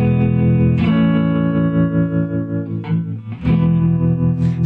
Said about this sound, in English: I'm going to play a little guitar